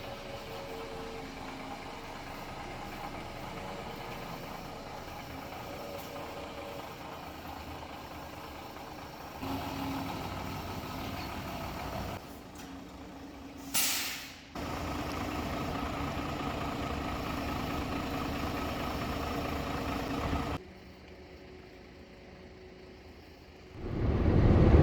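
A truck engine idles steadily in the early morning, a continuous even rumble with a brief louder surge partway through and a quieter stretch near the end before the level rises again.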